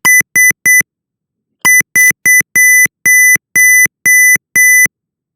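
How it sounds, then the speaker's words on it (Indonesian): Loud electronic beeps from an Arduino Uno PIN keypad door lock: three quick tones, a pause, then a run of short beeps followed by longer, evenly spaced alarm tones after repeated wrong PIN entries. "dia akan membunyikan alarm secara panjang"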